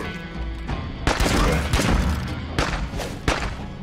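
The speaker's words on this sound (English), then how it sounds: "I hear those BFGs going off on them." BFG weapons fire in a video game, giving several heavy booming blasts and thuds in quick bursts that are loud and close.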